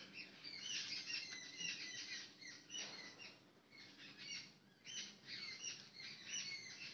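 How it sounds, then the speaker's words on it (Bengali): Small birds chirp and tweet in quick bursts on a rainy day, the calls fairly faint and distant, coming in clusters with short pauses and no voices. "পাখিগুলো কিচির মিচির কিচির মিচির করে ডাকছে।"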